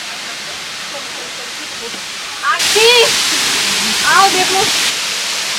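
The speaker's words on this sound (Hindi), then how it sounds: "सबसे पहला जो जगह है वो है मरमला वाटरफॉल।" Marmala waterfall near Vagamon, Kerala, reached by a short trek off the road from Kochi, fills the air with a steady, loud rushing roar, while a voice briefly talks over it midway.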